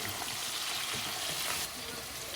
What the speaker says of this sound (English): 2 teaspoons garam masala. And just saute it in.